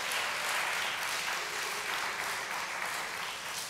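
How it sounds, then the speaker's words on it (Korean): A church congregation applauds in thanks at the opening worship of a Korean unification mission summit in Seattle, a steady, dense wash of many hands clapping that fills the room throughout without pause. "우리 다시 한번 더 우리 시애틀 형제교회에 감사 박수 한번 드리도록 하겠습니다."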